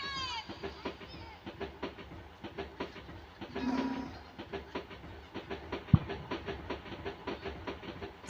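A passenger train running on rails, with rhythmic clickety-clack wheel beats and steady rumble throughout, close by, while people's voices come and go over it and a brief sharp clank sounds partway through.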